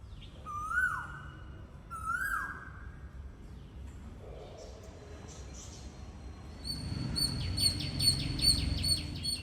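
Bird calls ring out in a terrace garden: two rising-then-falling whistled notes near the start, then a quicker run of high repeated chirps later over a low outdoor rumble.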